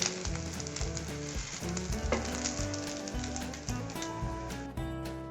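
A kalyana murungai (drumstick leaf) dosa cooking on a hot griddle, sizzling steadily and closely with crackling bursts, heard under continuous rhythmic background music.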